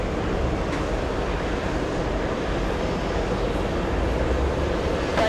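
An Air India airliner takes off at JFK airport, a broad, steady jet roar that holds loud and even throughout, distant yet powerful, with no voices over it.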